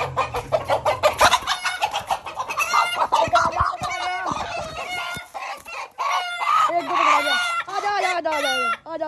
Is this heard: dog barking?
no